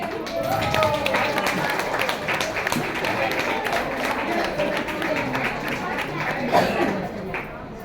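Loud applause from a gathered crowd at a prize-giving for women's competition winners, steady clapping over several seconds mixed with chatter and voices.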